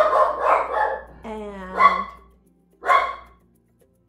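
Two or three sharp dog barks come in short bursts from a household with two dogs, loud and close, with a person talking over the first part.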